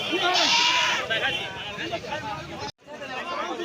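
Goats bleat over a busy crowd of voices chattering nearby at the Uluberia goat market, one loud bleat early on, then ongoing babble.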